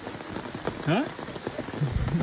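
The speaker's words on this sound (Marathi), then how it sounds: "जोरदार पाऊस सुरू आहे।" Heavy rain pours steadily on a mountain trek route, a dense broadband patter close around, with brief movement sounds and a low thump near the end.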